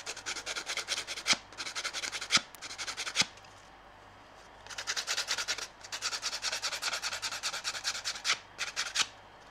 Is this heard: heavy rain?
no